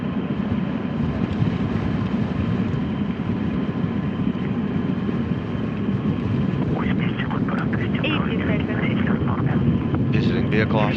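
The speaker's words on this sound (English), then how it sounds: "all systems are working well as the Soyuz continues its climb into orbit" A Soyuz rocket carrying an Expedition 30 crew to the ISS roars steadily as it climbs toward orbit, a dense continuous rumble throughout, with radio voices from the crew coming in over it during the last few seconds.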